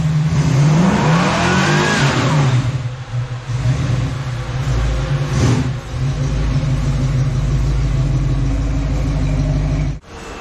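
Car engine revving hard during a burnout at a speed shop, loud and close, with rising and falling revs that settle into a rough idle before a sharp cutoff near the end.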